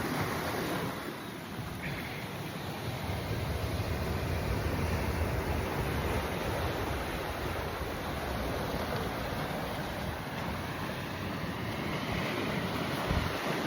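Ocean waves wash steadily against a rocky shore covered in mussel beds, a continuous broadband roar of surf with wind rumbling across the microphone throughout, no voices.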